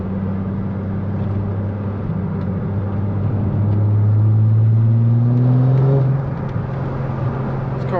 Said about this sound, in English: all I gotta do is blip the throttle and it shoots up my RPMs